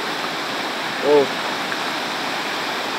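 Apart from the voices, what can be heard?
rushing current of Majayjay river, Laguna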